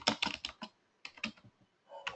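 Keys clatter on a computer keyboard in quick bursts of clicks, separated by short pauses, close and clear with no talking.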